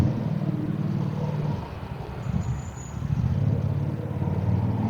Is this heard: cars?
yes